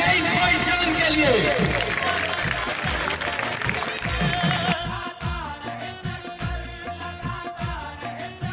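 Audience applause and cheering for a guest at an urs gathering at the dargah of Syed Mahmood Shah Bukhari, loud and sustained for several seconds, then tapering into broken clapping with music and voices underneath.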